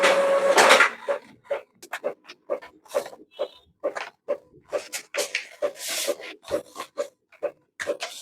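An inkjet-style printer, just repaired, feeds and prints a page with a steady series of short mechanical strokes and rubbing clicks, close and loud, following a brief louder whir at the start.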